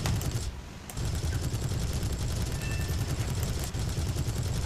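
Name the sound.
aircraft cannon fire in War Thunder video game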